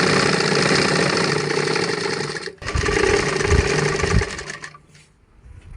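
A sewing machine stitches a skirt from ration sari cloth in a fast, steady whirring run, with a brief pause midway and a slowdown near the end.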